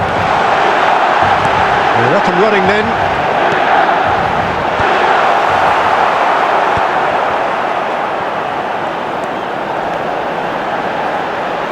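Stadium crowd in an eFootball Serie A league match with AC Milan, a steady loud roar of cheering filling the whole stretch, with commentary voices talking over it.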